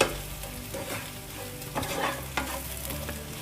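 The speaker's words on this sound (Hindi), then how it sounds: "और सब मसालों को अच्छे से प्याज और कैप्सिकम में हम अच्छे से मिक्स कर लेंगे" Spices being stirred into onion and capsicum in a pan over a low flame, a soft close sizzle broken by repeated spatula scrapes and stirring knocks, no voices.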